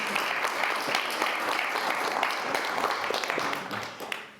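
A church congregation at an Easter service applauds steadily, a continuous wash of clapping that holds at an even level before tapering near the end.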